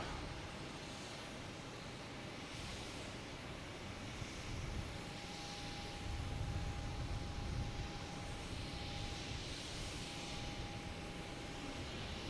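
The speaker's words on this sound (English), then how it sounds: "here comes the exec jet. It's a NetJet heading to LaGuardia." A NetJets executive jet at Boston Logan Airport, heading to LaGuardia, produces a distant, steady rushing roar that swells a little louder midway.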